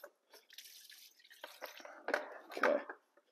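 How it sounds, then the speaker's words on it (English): Liquid draining off to the side, dripping and trickling in irregular spurts, close and fairly quiet, with a few splashier drips toward the end. "Put this off to the side and let it drain"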